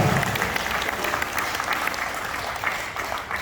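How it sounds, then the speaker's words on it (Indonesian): An audience at a health talk on pinched-nerve therapy breaks into steady, full applause that carries on for several seconds. "Terima kasih, tepuk tangan buat Pak Profesor."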